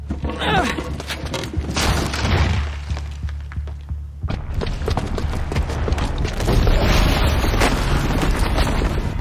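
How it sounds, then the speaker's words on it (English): A bomb set off by a booby trap in Horizon Zero Dawn erupts in deep, loud booming blasts with rumbling debris, one heavy burst early and continued explosive rumble building toward the end, no speech. "the booby trap on the bomb downstairs is gonna get set off"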